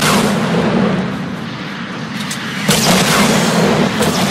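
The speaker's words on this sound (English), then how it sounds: "Oh, another rocket. Oh fuck, I got hit with that one." Rocket explosions in the Fortnite battle royale game, loud rumbling booms with a fresh blast partway through, dense and close over continuous low game noise.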